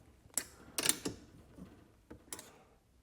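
A bolt is tightened on the base of a shop chair, giving a few quiet metallic clicks and ratcheting ticks spaced irregularly over a few seconds, close and faint.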